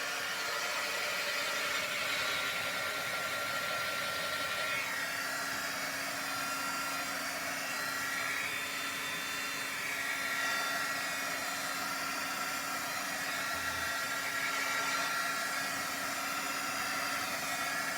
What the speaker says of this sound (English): I think I'm going to use the heat gun a little bit